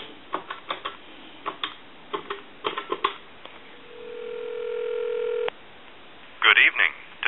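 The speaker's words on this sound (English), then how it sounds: "So I'm going to give you a dial tone. And then we'll go ahead and dial time and temp." A Crosley Retro 302 desk telephone gives a run of sharp dialing clicks, then a steady dial tone for about two seconds that cuts off abruptly, followed by a short burst of dialing tones.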